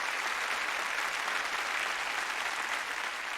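Roaring applause from a crowd welcoming pilots back on a runway after an aerobatics flight, a steady dense wash of many hands clapping at once, sustained and even without letting up.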